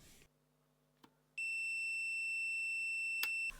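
A sustained, high continuity beep from a WinAPEX 268C clamp meter sounds steadily for about two seconds, preceded by a few faint clicks.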